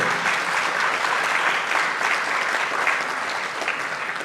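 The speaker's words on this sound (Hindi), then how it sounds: "धीरे बजाओ ताली" Steady, dense clapping from a crowded audience at a Hindi religious discourse on the Ramayana, continuous and fairly loud throughout with no pauses.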